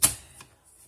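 A single sharp cutting snap from a paper trimmer and scoring tool slicing through scrapbooking paper, close and crisp, followed by a faint softer click and quiet rustle.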